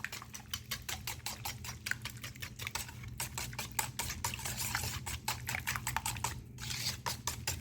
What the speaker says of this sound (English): Just whisk them in.